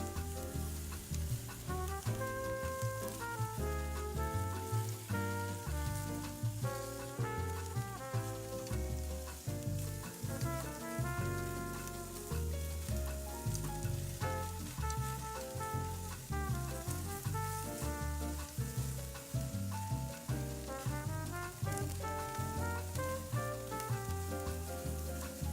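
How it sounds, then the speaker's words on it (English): Salted, oil-drizzled beef ribs sizzle steadily on a grill, a dense continuous crackle and hiss that stays even and close throughout, with no voices. "So we're having some beef ribs, which were just salted, drizzled with oil, and put on the grill."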